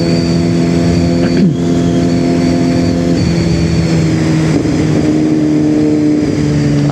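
A QJ SRK450RR motorcycle engine runs steadily up close, its exhaust holding a loud, even drone with a few brief blips in pitch and no voices.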